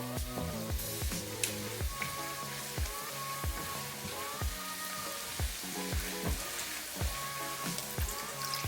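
Mushrooms sizzle in a pan for beef stroganoff, a dense, steady frying hiss close by, over a repeating underlying thump, with no talking.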